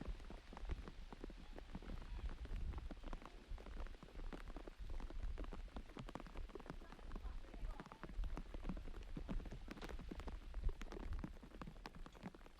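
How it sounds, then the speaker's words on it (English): Rain falling steadily on an outdoor pitch during a girls' under-15 soccer match, a continuous faint patter of drops with irregular light splashes, distant and even throughout with no clear talk. "So we've got the rain coming through."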